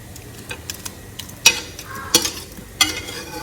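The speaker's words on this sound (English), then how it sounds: "Go ahead and combine all my veggies together with the eggs." Spatula stirring vegetables together with eggs in a pan for a ripe plantain frittata, with three distinct scraping clinks over a faint sizzle and soft shuffling scrapes between them.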